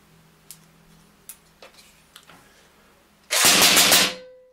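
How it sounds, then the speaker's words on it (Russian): Evanix GTK290 PCP air rifle firing on full auto: a few separate sharp ticks first, then a loud, dense burst of rapid shots lasting about a second, sharp and close, with no voices. "А это уже был автоматический огонь."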